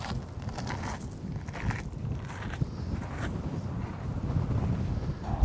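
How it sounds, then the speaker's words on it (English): Strong wind buffets the microphone at a mountain rest area in Guadalupe Mountains National Park, a steady rumbling roar with heavier gusts throughout. "It's so windy here today."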